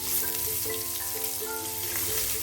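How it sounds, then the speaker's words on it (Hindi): Eggs frying in oil in a kadai: a steady, close, loud sizzle with crackling spatter throughout and no talking. "अंडा को एकदम लाल करके फ्राई करके लेंगे"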